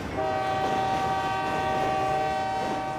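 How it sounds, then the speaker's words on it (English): A train rumbles steadily with a sustained horn-like tone held throughout, loud and continuous as it draws near. "Here comes the train now."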